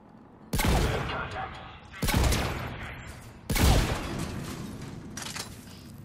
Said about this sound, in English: shotgun to the back of the head